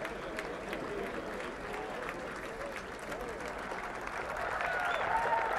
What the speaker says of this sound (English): we heard the applause as Tiger hit his tee shot from behind here